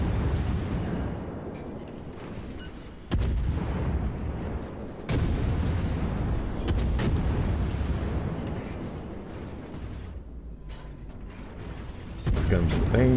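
Heavy naval guns fire in World of Warships: several deep booming salvos, a few seconds apart, against a rumbling battle background, with someone commentating over them.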